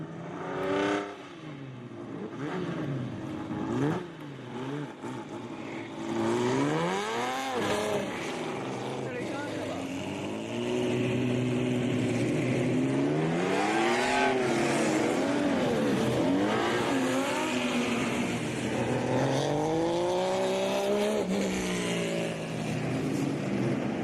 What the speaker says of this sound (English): the Canadian Vintage Modifieds make their way out onto the Speedway